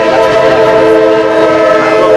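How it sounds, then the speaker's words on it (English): A passing train sounds its horn in a loud, sustained blast with steady rumbling underneath, close by and continuous throughout. "That's my train."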